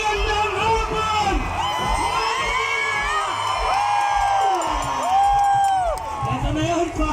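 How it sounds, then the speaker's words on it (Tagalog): A big crowd of Marikina residents yelling, whooping and cheering at a packed afternoon event, loud and continuous, with rising and falling shouts and voices layered through the din. "Pwede bang marinig yung tumatagundong na sigaw ng mga taga-Marikina?"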